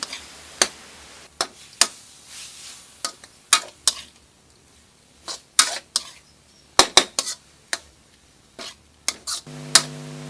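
A utensil clacks and scrapes against a pan while pork is stir-fried with shrimp paste, giving sharp, irregular knocks at a busy pace. A steady electronic tone comes in near the end.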